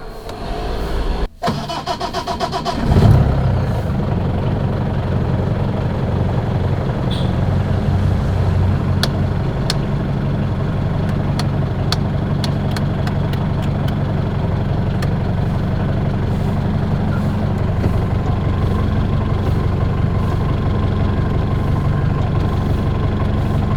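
A Hindustan Ambassador car cranks briefly, catches, and settles into a steady, loud, rumbling idle that continues evenly for about twenty seconds, with a few faint clicks.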